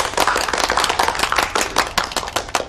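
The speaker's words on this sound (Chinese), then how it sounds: "大家要是没什么意见， 请鼓掌通过" Meeting attendees applaud together to approve a motion, a burst of brisk, closely packed hand claps, loud and continuous for a few seconds.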